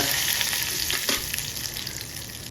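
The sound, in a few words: urad dal and mustard seeds frying in oil, being stirred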